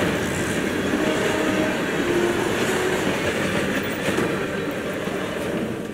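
A train rolls along the tracks in the video game Hitman 3, set in the Carpathian Mountains, with a steady, loud rumble and clatter that holds for the whole stretch.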